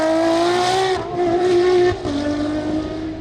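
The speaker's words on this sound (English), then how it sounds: "the yowl it makes, it's sort of almost a scream as it gets up in the rev range" A Ferrari 599XX Evoluzione on a race track, its engine revving hard with a loud, high-pitched screaming tone that dips slightly between gear changes, close and continuous with no talk.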